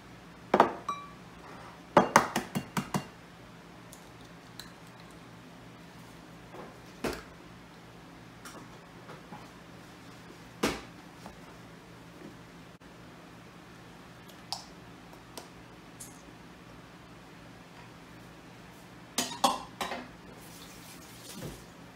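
Eggs go into a bowl of banana muffin batter and get mixed in. Scattered sharp clinks and taps against glass or metal come in short clusters, separated by long quiet stretches.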